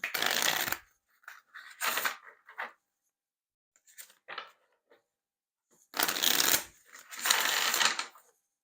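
A tarot card deck being shuffled up close, in several separate bursts of crisp riffling and flicking with short quiet gaps between them.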